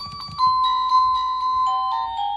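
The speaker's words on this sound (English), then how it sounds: "the same doorbell sound goes through all three" A wireless doorbell receiver plays its melody chime, a sequence of clear ringing electronic tones stepping between pitches, close and moderately loud, after a few soft handling knocks at the start.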